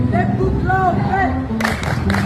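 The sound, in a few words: group clapping in rhythm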